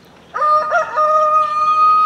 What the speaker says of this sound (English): And chicken commentary in the background.